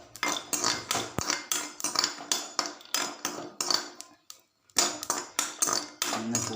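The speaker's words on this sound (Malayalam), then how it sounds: "ഇനി നമുക്ക് വെളുത്തുള്ളി ഒന്ന് വഴറ്റിയെടുക്കാം കേട്ടോ" Garlic is sautéed in a pan to a brisk, regular beat of a metal spoon scraping and knocking against the pan, with a brief pause before the stirring resumes.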